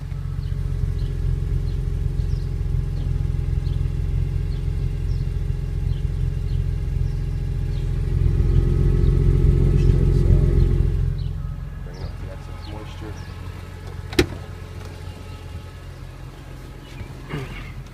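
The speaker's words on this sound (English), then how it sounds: "And here's the exhaust one more time." Exhaust of a 2002 BMW M3 running steadily at idle, a deep continuous drone that swells briefly before settling back, recorded up close with no talking.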